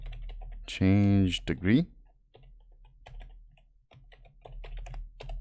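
Keyboard keys clicking as JavaScript code is typed on a computer, a short burst of speech followed by scattered, light, close keystrokes.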